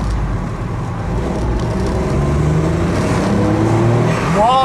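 Turbocharged engine of a Honda S660 kei sports car revving under load, a loud continuous drone with rising pitch toward the end, heard from inside the car on a cool March drive.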